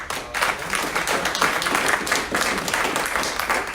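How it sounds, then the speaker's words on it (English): Steady applause from an audience, dense overlapping clapping that holds at an even level throughout without pause. "let's give a round of applause"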